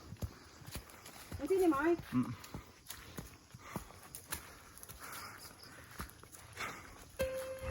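Hooves clip-clop as a horse is ridden at a hacienda, a steady series of close, distinct knocks at walking pace, with a person speaking briefly and faint birds in the background.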